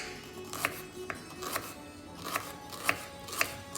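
A knife slicing raw banana into thin pieces on a board gives sharp, quiet taps at an uneven pace, about seven cuts in a few seconds, close by with no talk.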